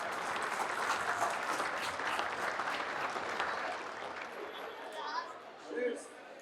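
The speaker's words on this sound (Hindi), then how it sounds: "एक बार जोरदार तालियां" Enthusiastic applause from a crowd at a Holi Milan gathering for a prize winner, loud and dense at first, then slowly thinning, with faint chatter mixed in.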